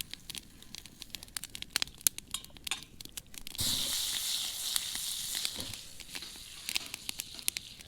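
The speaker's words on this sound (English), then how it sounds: "Melt the butter down." Butter melting in a pan at an outdoor lakeside cook: scattered crackles and pops give way to a sustained close sizzle that swells for a few seconds, then thins back to sparse spitting.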